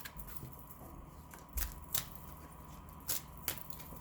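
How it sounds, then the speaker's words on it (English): Oracle cards from a Divine Feminine and Masculine deck shuffled by hand, giving several short papery riffles and flicks in an otherwise quiet room, with no talking. "I'm just going to shuffle just a quick couple of oracle cards"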